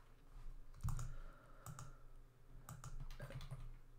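Keys on a computer keyboard are typed in short clustered bursts while entering text into a Google Docs Venn diagram, with small pauses between groups of clicks, close and fairly clear over a quiet background.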